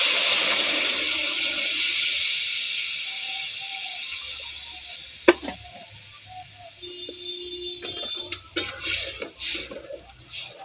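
Water poured into a pot of Bengali crab curry (sour crab dish) simmering with coriander leaves, a steady hissing pour that tapers off into bubbling and small clinks, with no talk.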